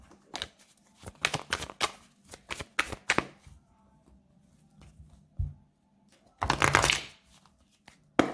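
Oracle cards are shuffled and cut by hand in quick riffling bursts and soft slaps, close and fairly quiet, with a louder flurry near the end.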